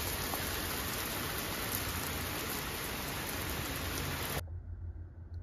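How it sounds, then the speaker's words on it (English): Rain pours steadily during a tornado warning in Massachusetts: a loud, dense hiss of drops that cuts off abruptly near the end, leaving a quieter background. "And now we got some rain."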